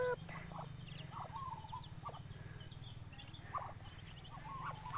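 Chicks peep in faint, scattered high chirps over a steady low hum, with occasional fowl clucks nearby and soft indistinct voices in the background.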